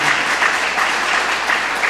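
A church congregation applauds steadily during a service, a dense wash of clapping hands with no pauses.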